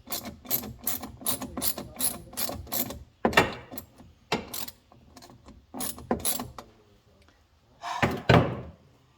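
A ratchet wrench clicks in quick repeated bursts as it turns a stuck, freely spinning machine-thread bolt on a 2008 Polaris RZR 800 during a fuel pump replacement, with short pauses and a final louder burst.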